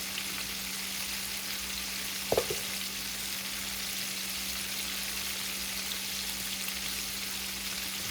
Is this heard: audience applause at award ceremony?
no